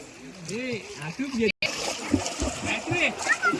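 A child swimming in a river in the countryside, with light irregular splashes close by under near-constant talking voices.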